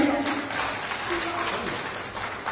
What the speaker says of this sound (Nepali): एकबार जोरदार ताली बजाइदिनुहोस् सानसाना नानीको लागि।